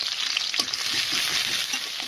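Onion frying in oil in a wok for a tomato curry, a dense, close sizzle with soft stirring scrapes and a light knock partway through, no talking.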